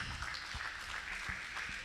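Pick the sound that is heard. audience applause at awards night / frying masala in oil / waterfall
audience applause at awards night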